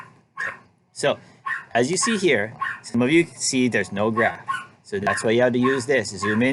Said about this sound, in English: That's my crazy dog. Just keeps barking.